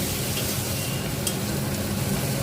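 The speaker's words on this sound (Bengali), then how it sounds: "দেব কাঁচা লঙ্কার পেস্ট সব মশলাগুলো ভালো করে আমি মিশিয়ে নেব" Spices and green chili paste being stirred together in a pan for a red mutton curry, a steady scraping stir over continuous sizzling that runs evenly throughout.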